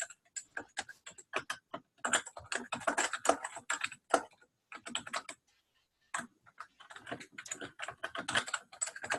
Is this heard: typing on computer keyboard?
yes